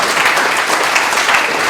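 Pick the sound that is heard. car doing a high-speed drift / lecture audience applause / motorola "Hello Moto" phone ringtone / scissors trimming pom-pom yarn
lecture audience applause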